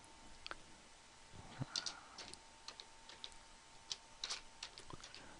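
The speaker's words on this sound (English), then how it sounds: "So I'm going to type in here a couple of equations." Light, sparse clicks of computer keyboard keys as equations are typed, quiet and close, with irregular single taps and small clusters separated by brief pauses.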